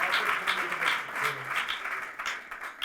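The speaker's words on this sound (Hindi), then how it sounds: "जोरदार तालियां।" A church congregation applauding during a Sunday service, moderate steady clapping from many hands in a hall, fairly even and continuous over a few seconds.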